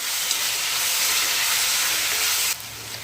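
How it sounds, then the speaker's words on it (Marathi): Tomatoes fry in hot oil with grated coconut and garlic, giving a loud, continuous sizzle up close that drops a little in level near the end. "हे जे टोमॅटो आहे हे टोमॅटो टाकून घेते आणि हे पण मस्त परतून घेणार आहे"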